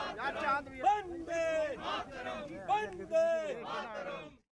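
A crowd at a Tiranga rally in Jammu and Kashmir chants and shouts slogans in loud, rhythmic bursts, voices rising together in repeated cries, heard fairly close.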